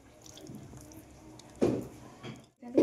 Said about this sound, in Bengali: এবার আমি এই লেবু থেকে রসগুলো বের করে নেবো এইরকমভাবে